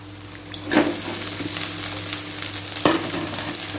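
Cooked rice tipped into a pan of sautéed carrots on a full-flame stove, with a steady sizzle and fry under two brief louder scraping stirs; no talking.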